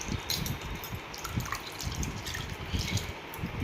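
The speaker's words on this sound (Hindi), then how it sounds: "तो हम इसको अब धोएंगे 4-5 पानी से।" Lentils (dal) being rinsed in water in a home kitchen, with soft sloshing and dripping splashes in an irregular rhythm, fairly quiet and close.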